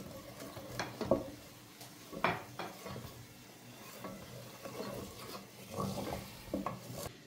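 A spoon scrapes and stirs lightly toasted flour in a pot for tripe soup. Several distinct scraping strokes land with clinks against the metal over a quiet background, close and fairly faint.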